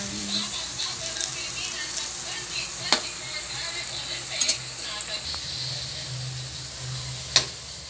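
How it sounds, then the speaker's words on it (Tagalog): Sliced bananas frying in a pan with a steady soft sizzle, a few clinks of utensils against the pan, under talk in the room. "nagayat na natin yung saging. Tapos, piniprito na ni Jeffrey yung iba"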